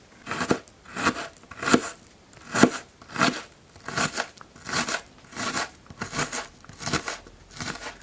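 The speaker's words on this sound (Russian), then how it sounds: "Лук нарезали тоже сюда все." Onions being chopped finely on a board, about a dozen crisp knife strikes at an even pace, close by with no voices.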